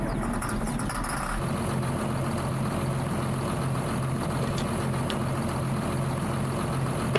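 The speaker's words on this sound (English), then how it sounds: "over here we got our auger tractor, a 4255" A 4255 two-wheel-drive auger tractor in Farming Simulator 22 idles steadily, a continuous low engine rumble at close range with no talk over it.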